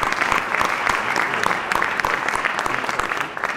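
Sustained applause from a conference audience, a dense, steady patter of many hands clapping together at close range for several seconds without a break.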